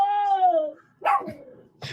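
A dog barks sharply once with a strong tonal yelp that slides downward, followed about a second later by a second rougher bark and a brief third sound at the end, close and loud.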